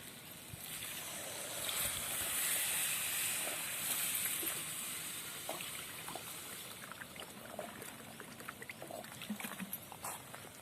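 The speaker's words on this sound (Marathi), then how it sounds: "तर आता त्यामध्ये टाकणार आहोत पाणी शिजायला" Water poured into a pot of peas curry, a faint, continuous trickling and splashing that builds up, then a few small clinks and drips as it tapers off.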